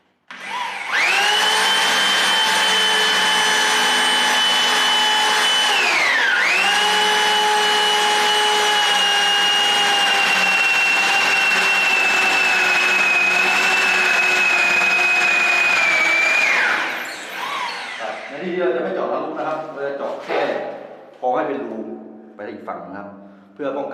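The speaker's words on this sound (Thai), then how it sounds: "มาดูการเจาะ ดอกโอซอก็จะวงกลมนะครับ" A hole saw whines steadily as it bores into a wooden bathroom door, its pitch dipping briefly under load, then winding down into scraping and knocking.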